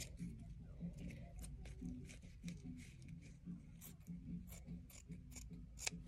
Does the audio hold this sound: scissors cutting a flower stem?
yes